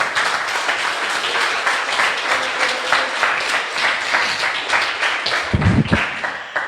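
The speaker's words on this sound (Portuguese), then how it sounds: "Vamos aplaudir ao Senhor, gente." A church congregation breaks into sustained, dense applause that fills the room, many hands clapping together at a steady level for several seconds, with a few louder claps near the end.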